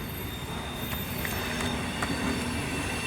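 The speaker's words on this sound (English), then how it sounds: "I will adore the day I no longer live near a train track" A train passes on nearby tracks, a loud continuous rumble with wheel squeal running throughout, close and unbroken.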